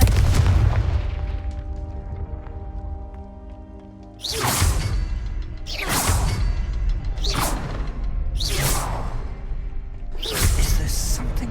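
Confringo blasting spells in Hogwarts Legacy strike one after another, five loud whooshing booms at roughly even intervals over a low ambient rumble, with no talking between them.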